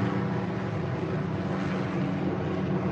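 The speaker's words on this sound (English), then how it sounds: "Excuse me, a helicopter's flying above." A helicopter passes overhead during an early-morning walk through a cemetery, its steady, broad engine and rotor drone holding constant and fairly loud for the whole stretch, with no voices.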